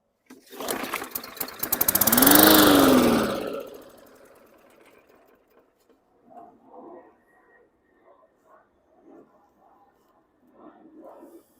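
A 2019 Hyper Tough lawn mower engine fires up loudly, roars for about two seconds, then dies away; afterward only faint clatter and scattered low voices remain.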